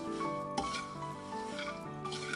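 Peanuts tipped into a pan of roasting dried shrimp (jawla) for a chivda mix, giving close, soft rattling and scraping against the pan with a single sharper clink, no talking.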